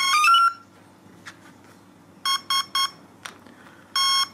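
A ToolkitRC WM150 watt meter beeps as it powers on: an opening electronic chirp melody, then three quick tones and a final longer beep, loud and close over a quiet background.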